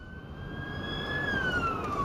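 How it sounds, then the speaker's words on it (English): An ambulance siren on the far side of the road, a single rising and falling wail that grows gradually louder as it approaches over steady road noise, with no talk. "ambulance on the far side of the road. I need to slow down for the old ambulance."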